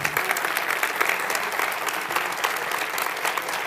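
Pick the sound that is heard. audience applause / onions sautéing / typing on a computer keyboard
audience applause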